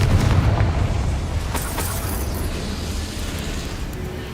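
The Confringo explosive spell goes off in Hogwarts Legacy as a deep, rumbling blast at the start, followed by a sharp crack and a long decaying rumble with mechanical creaking in the background.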